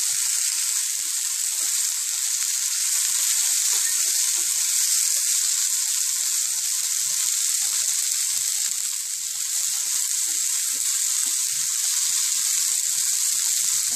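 Okra (bhindi) fries in hot oil for a masala bhindi dish, giving a loud, steady, close sizzle that holds unbroken throughout.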